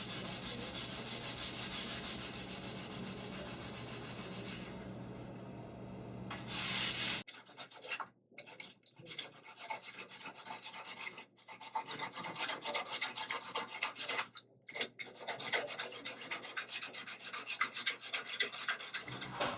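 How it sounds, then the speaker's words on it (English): A wooden table top is sanded by hand between finish coats, making a loud, continuous rasping scrub that shifts in tone partway through and breaks off in a few brief pauses. "I'm going to sand it."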